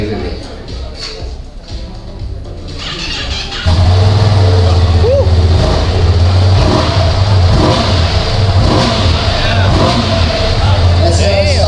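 A Ducati Monster motorcycle on its stock exhaust, in neutral, idles roughly and then jumps into a loud, sustained rev. Faint voices can be heard in the background.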